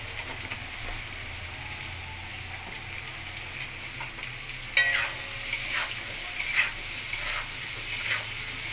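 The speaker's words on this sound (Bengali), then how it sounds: "একটু ভাজা হবে" Prawns with Malabar spinach and vegetables frying over lowered gas heat, a continuous soft sizzle with a few louder stirring scrapes and clinks in the second half, no talking.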